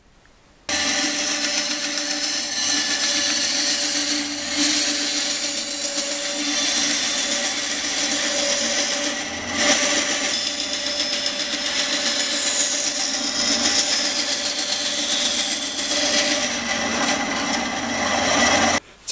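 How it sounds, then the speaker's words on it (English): A bandsaw cuts a spear head shape out of a piece of wood with a loud, continuous whining rasp that runs nearly twenty seconds, with only slight dips in the cut and no talking. "I can cut it out with a bandsaw."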